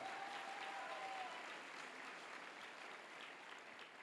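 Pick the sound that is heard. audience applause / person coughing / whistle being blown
audience applause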